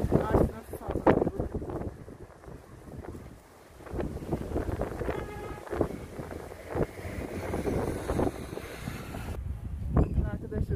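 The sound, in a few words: strong stormy wind blowing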